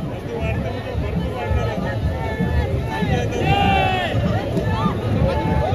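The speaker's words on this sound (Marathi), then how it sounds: "पण आता जशी जशी पालखी जवळ येते तशी तशी गर्दी वाढते" A dense crowd thickens around the Ekvira Devi palanquin procession at Apta Koliwada, a steady roar of voices and shouts close by, with someone speaking over the noise.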